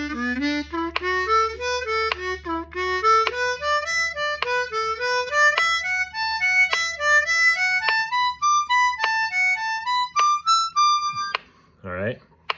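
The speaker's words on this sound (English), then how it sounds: "So playing the scale pattern with the metronome like that would sound" Blues harmonica runs up and down a scale pattern in a steady straight rhythm, each note landing on a metronome click, loud and close, ending with a brief pause and a short final sound.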